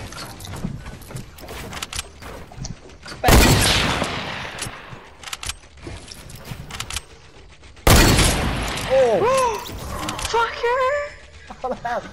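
Two bursts of gunfire from the Fortnite video game in Playground Mode, each a sharp loud onset followed by decaying noise, separated by several seconds, with chirping game effects and a voice talking softly in between.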